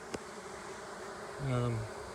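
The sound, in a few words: bees buzzing around their new hive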